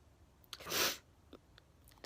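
A single loud, close human sneeze bursts out in a short rush, followed by faint sniffing and breathing in a quiet room.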